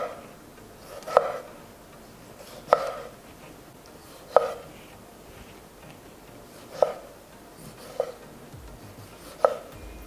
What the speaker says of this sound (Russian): Нарезаю вот примерно небольшими кубиками.